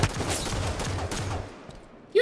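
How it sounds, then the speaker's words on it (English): Repeated pistol fire in a Halo Slayer match, a dense run of quick sharp shots over game noise that fades out near the end before a brief loud burst. "Take this pistol to the face."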